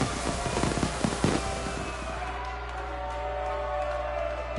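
Fireworks go off in a quick burst of crackling pops and bangs over a low rumble, then fade into a softer, hissing crackle.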